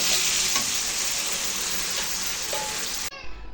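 Loud, continuous sizzling of boiled papaya and potato frying in hot oil with turmeric, with a few scraping stirs, then the sizzle abruptly cuts off near the end.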